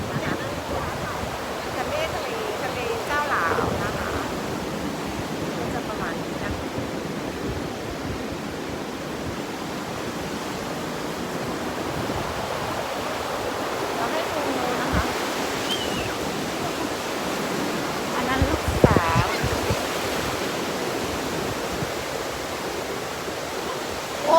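Sea waves washing onto a beach, a continuous broad rushing surf with swells rising and falling and a louder surge near the end, with someone talking over it.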